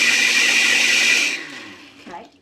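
A blender running on low while blending a fruit smoothie with added water makes a steady, loud whirring motor drone that cuts off midway, followed by fading mechanical rattling.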